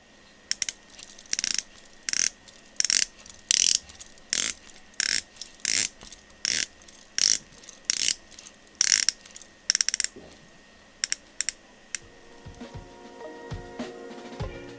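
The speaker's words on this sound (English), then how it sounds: "the bezel action is not great" Rotating bezel on a 1961 Mido Ocean Star Decompression Timer ratcheting in quick bursts of crisp metallic clicks, a dozen or so rhythmic turns that stiffen and trail off into lighter, scattered ticks near the end.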